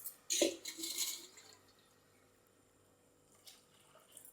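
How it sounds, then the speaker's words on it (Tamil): Half a litre of water poured into a pot of drumstick leaf soup, a loud splashing burst at the start that quickly fades into quiet trickles and faint drips. "இப்போ பாருங்கள், நான் இதில் 1/2 லிட்டர் தண்ணி சேர்த்துக்கிறேன்."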